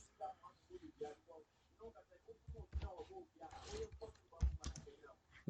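Computer keyboard keys click in short irregular bursts close by, mixed with a person talking over the typing.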